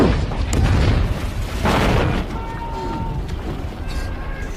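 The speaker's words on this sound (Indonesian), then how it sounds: "Sesaat kapal itu pun meledak diiringi jeritan para tentara di dalam yang minta untuk diselamatkan." A ship explodes with a heavy booming blast that rolls into a long rumble, with faint distant cries of soldiers trapped aboard rising over the noise afterward.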